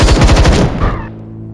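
Loud rapid machine-gun fire from the video game Templar Battle Force, a quick burst of shots that cuts off and trails into a brief fading tail.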